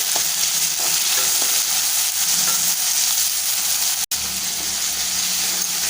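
Finely chopped medium tomato sautés with softened onion in oil for spicy vegetable noodles. A dense, loud, continuous sizzle with faint stirring scrapes is briefly cut by a split-second dropout near the end.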